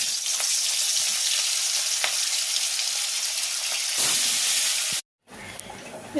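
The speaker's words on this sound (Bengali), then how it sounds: "তেল গরম হয়ে গেছে, মাছটা আগে ভেজে নিই" Fish fry in hot oil with a loud, steady crackling sizzle, close and continuous, swelling a moment before an abrupt cut to near silence, then a quieter sizzle returns.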